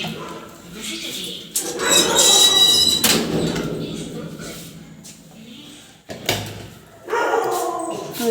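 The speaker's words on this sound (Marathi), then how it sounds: "अरे यार, नेहमी भुंकत असतो" A dog barks and yelps in sharp bursts close by, breaking out loudly around the middle and again near the end, with talking underneath.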